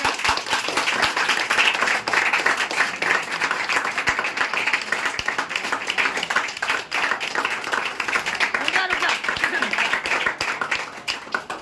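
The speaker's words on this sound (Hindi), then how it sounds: "ताली बजा दो जरा जोर से एक बार" An audience claps loudly and continuously in a dense, steady wash of applause lasting several seconds, with a voice faintly audible beneath it.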